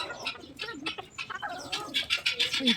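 Pigeons and sparrows calling close by in a park, soft throaty cooing mixed with brief chirps and tweets in an irregular, busy outdoor chorus.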